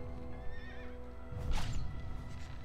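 A horse in the PS2 game Shadow of the Colossus gives a short whinny, then a louder snort and burst of movement with hoof clatter, alone without talk.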